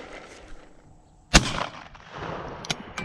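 A single loud, sharp shotgun blast rings out outdoors during target shooting with a newly fitted sight, followed by a brief rumbling tail and a couple of small clicks afterward.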